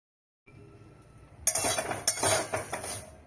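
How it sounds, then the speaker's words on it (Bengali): Neem leaves tossed in a hot dry wok without oil produce sharp metallic clinks and scraping from a spatula against the pan, with rustling bursts after a short silent start. "কড়ায় তেল ছাড়া নিম পাতাগুলো ভালো করে ভেজে নেব।"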